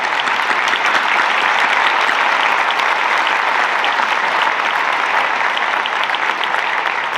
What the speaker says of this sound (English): Please stand and give a round of applause.